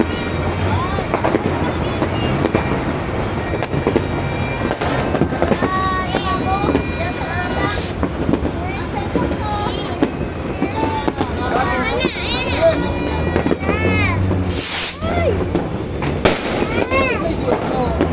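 New Year fireworks in Manila, with dense, continuous crackling and popping bursts nearby mixed with wind noise, while people talk and shout throughout.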